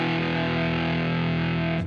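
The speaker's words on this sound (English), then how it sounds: "I was very happy I got to put some real heavy distorted guitars on a pop" Heavily distorted electric guitar power chords on E with effects, played for a pop R&B track; a thick, sustained, loud wall of chord tone fills the whole stretch with no talking, ending in a brief squeal.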